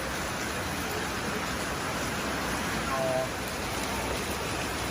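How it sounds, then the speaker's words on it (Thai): Steady, dense hiss of rain falling on an evening, spread evenly across the whole stretch with no pauses, moderately loud and constant. "วันนี้ชุ่มฉ่ำครับมาแล้วฝนตกเลย"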